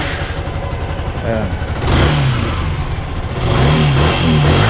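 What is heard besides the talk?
Yamaha R15 v2 motorcycle engine starting and revving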